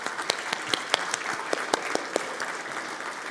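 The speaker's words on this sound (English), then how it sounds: "let's give our sponsors a big round of applause for their support" Audience applause at a dentists' summit, a steady wash of clapping with a few sharper individual claps standing out close by.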